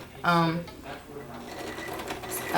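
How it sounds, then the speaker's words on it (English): A sewing machine stitches a seam close to the edge of a zippered pillow cover, running as a steady mechanical whir under a person's voice. "So I'm just sewing it on like that,"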